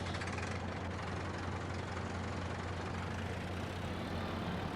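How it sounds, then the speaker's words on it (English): A tractor engine in Farming Simulator 22 runs at a steady low idle, a continuous droning rumble with no change in pitch, moderately loud and alone. "let's go ahead and get the tractor moved out of the way"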